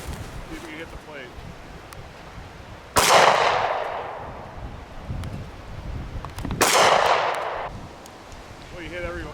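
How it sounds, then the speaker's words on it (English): Two loud pistol shots from a 1911-style .45 caliber American Titan snub nose pistol made in the Philippines, fired at a steel plate outdoors, each a sharp crack with a long decaying ring, a few seconds apart over steady wind noise. "My 1911 45 caliber American Titan made in the Philippines snub nose pistol"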